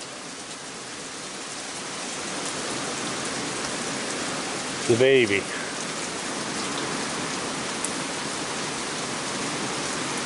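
Heavy rain pours down in a steady, dense hiss, with a person briefly speaking partway through.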